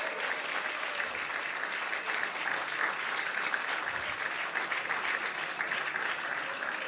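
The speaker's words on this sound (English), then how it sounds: "So please give a big round of applause, Krishna Prabhu." A crowd at a devotional gathering claps steadily, a dense, even wash of applause from many hands that carries on for about seven seconds without voices.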